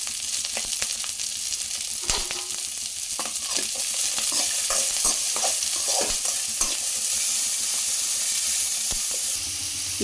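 Chopped large onion frying in a pan while being stirred for a drumstick-leaf stir-fry, a steady close sizzle with repeated scraping and clinking strokes throughout, no talk.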